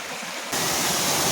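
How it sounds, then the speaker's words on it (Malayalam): A waterfall roars as a broad, loud rush of falling water, which jumps sharply in volume partway through and then holds steady. "കാണ്ട രണ്ടാമത്തെ വെള്ളച്ചാട്ടം"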